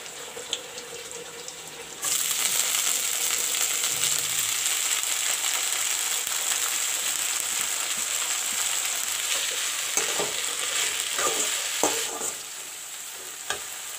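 Methi (fenugreek) leaves hit browned onions in a hot pan and burst into a loud, steady sizzle that holds evenly for most of the stretch, with a few scraping stirs near the end.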